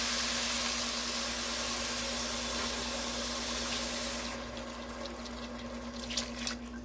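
Water pours steadily into a pot to start an oxtail gravy, a close, continuous splashing rush over a low hum that cuts off partway through, leaving quieter kitchen clatter.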